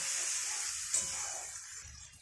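Spice paste with salt and turmeric sizzles and hisses steadily in a pan for paneer masala, a soft continuous fry with faint stirring bumps, fairly quiet and without voices.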